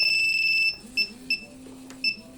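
The anti-theft alarm on a black Honda Fazzio scooter beeps in high, sharp tones, first as one sustained stretch and then as short repeated chirps, close by with faint background noise.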